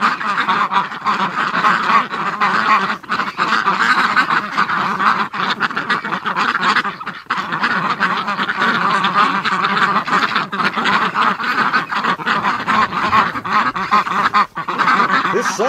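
A flock of Muscovy ducks at a lake gives dense, continuous quacking and honking calls, loud and close, with many birds overlapping throughout.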